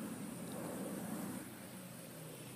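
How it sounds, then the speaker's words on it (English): A low, steady engine drone of an airplane passing overhead, fairly faint and distant, holding constant for a few seconds. "There's an airplane now."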